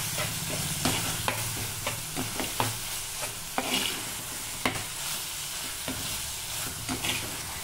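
Turmeric powder is stirred into a sizzling frying mixture for tomato chutney, with a continuous close hiss broken by regular spoon scrapes and taps against the pan.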